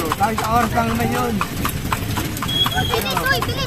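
A horse pulls a kalesa carriage with a steady, rhythmic clip-clop of hooves on pavement, close by, under nearly continuous conversation, with a faint engine hum in the background.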